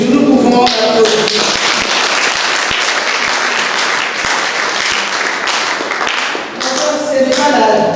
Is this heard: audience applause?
yes